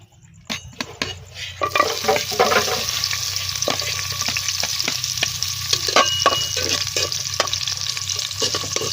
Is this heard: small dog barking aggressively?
no